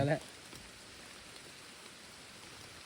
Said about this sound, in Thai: ฝนก็ตกนะฮะ